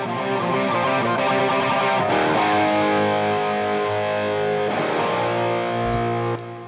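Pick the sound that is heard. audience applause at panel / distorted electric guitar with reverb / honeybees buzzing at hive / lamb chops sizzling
distorted electric guitar with reverb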